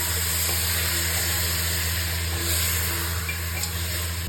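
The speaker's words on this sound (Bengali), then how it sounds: "মটন গুলোকে তেলের সাথে মিক্স করে নেব" Mutton stirred into hot oil gives off a steady, even sizzle and hiss, fairly quiet and unbroken with no talking over it.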